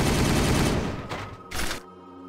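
Rapid gunfire from a Warhammer 40,000 battle game rattles in a dense burst, then tapers into a couple of short separate volleys before falling quiet.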